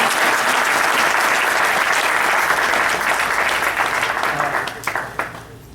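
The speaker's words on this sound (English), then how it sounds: "a big round of applause for all these people" An audience at a Houston tribute event for Indian Uri soldiers breaks into loud, sustained applause that thins out and fades in the final seconds.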